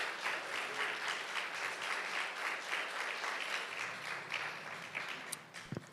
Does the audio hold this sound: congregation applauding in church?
yes